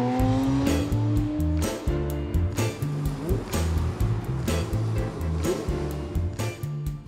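A Porsche engine revs hard to about 9,000 rpm, its pitch climbing to a high whine, with a steady pulsing rhythm underneath.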